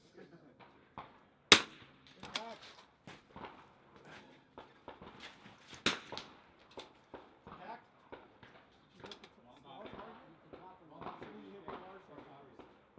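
.22 rifle shots at an outdoor NRL22 match, sharp cracks at irregular intervals, a couple standing out loud and near while the others sound lighter, with people talking throughout.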